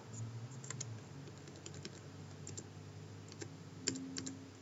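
Computer keyboard keys tapped while working in MathCAD Prime, including arrow keys, a quiet irregular run of light clicks over a low steady background hum.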